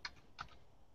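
A few quiet keystrokes sound on a computer keyboard, two soft clicks spaced apart over a faint background hiss, close but low in level, with no talk.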